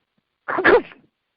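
A single sneeze close by, brief and sharp, against otherwise silent surroundings.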